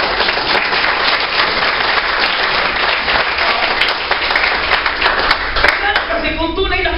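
A church fellowship audience claps in sustained, dense applause that fills the whole stretch, loud and close, with a voice briefly heard near the end.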